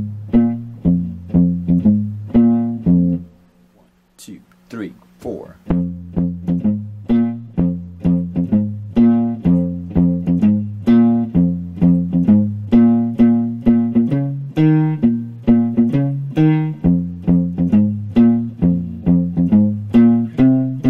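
Electric guitar plays a riff, a steady repeating bass-register figure with a brief pause near the start, loud and close, no talking.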